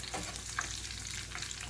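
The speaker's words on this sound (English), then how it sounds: "That is a sandwich frying in pancake batter." A Monte Cristo sandwich coated in pancake batter fries in hot grease, giving a close, steady sizzle with small crackles and pops that run continuously.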